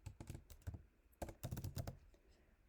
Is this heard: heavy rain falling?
no